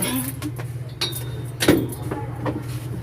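Keys jangle and clink in brief bursts over a steady low engine hum, with a brighter metallic rattle near the middle; no one speaks.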